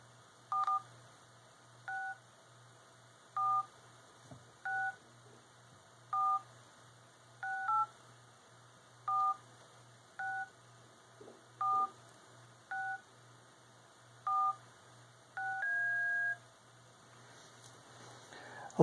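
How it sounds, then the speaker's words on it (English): A dry-fire par time tracker phone app gives a series of short electronic beeps at a steady interval, about a dozen, each a two-tone chirp, ending with a longer, higher stop tone; a low hum runs underneath. "The start beep is a different pitch than the stop beep."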